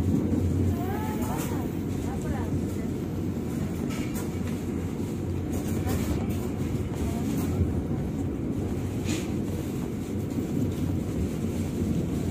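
A KA Jayabaya passenger train runs straight through Wonokromo station, heard from inside the air-conditioned carriage as a steady, loud rumble of wheels and motion across the whole stretch, with faint voices in the background.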